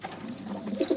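Agitated homer pigeon cooing in a loft, a short run of throaty, pulsing coos up close with brief chirpy accents near the end.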